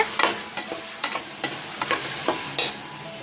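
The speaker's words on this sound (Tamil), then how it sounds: "உருளைக்கிழங்கையும் பட்டாணியும் சேர்த்து நல்லா வதக்குங்க" Potatoes and peas being sautéed in a pan for a potato-pea pulao, with a spatula giving a series of sharp scraping stirs over a low, steady sizzle. The sound is close and clear, with no talking.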